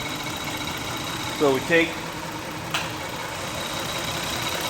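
A 2000 Toyota 3.0 VVT engine with a misfire from a weak coil pack idles steadily throughout, a close, continuous rumble with a brief click partway, while someone speaks briefly over it.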